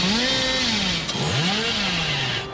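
Video game chainsaw revving, a loud buzzing whine that rises and falls in pitch with a sharp dip midway, then tails off.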